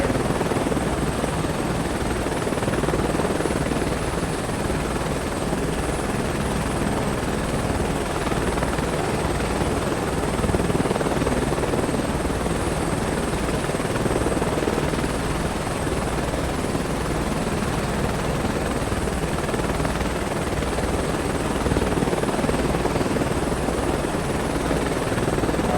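Steady helicopter rotor and engine drone from Microsoft Flight Simulator 2024, a loud continuous whine with a thrumming low beat that holds unbroken throughout, with no voices over it.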